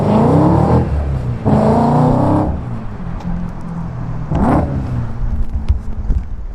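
A modified, decatted BMW E92 M3 engine revs hard three times in quick bursts, loud and close, each rise falling back to a rough idle between them.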